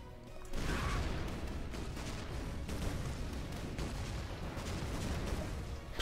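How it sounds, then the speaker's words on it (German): A sausage weapon fires in the artillery game ShellShock Live, a loud sustained blast of booming, crashing explosion noise that rumbles on for several seconds with no talking. "Mal die Sausage schießen."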